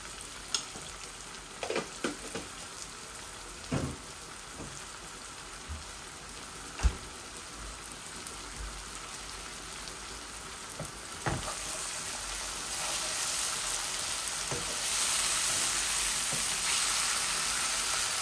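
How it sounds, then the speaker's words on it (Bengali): Onion, grated ginger and garlic frying in a pan, a dense continuous sizzle with occasional sharp stirring knocks, growing slightly louder toward the end. "আমার পেঁয়াজ আদা রসুনগুলো বোনা হচ্ছে, হাফ কুক হয়ে গেছে"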